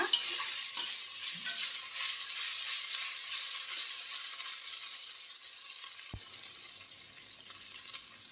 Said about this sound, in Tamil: நல்லா தக்காளி வதங்கட்டும் இதிலே வந்து புதினா போட்டுக்கலாம் இதில் எண்ணெயிலே போடும்போது நல்லா வாசனை வாசனையாக இருக்குங்க நல்லா வதக்கிடுங்க